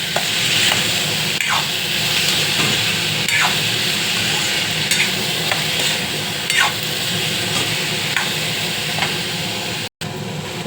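French bean bhaji with turmeric is stirred in a hot pan: a continuous sizzle runs throughout while a spatula scrapes in regular strokes, close and fairly loud, with a brief dropout near the end.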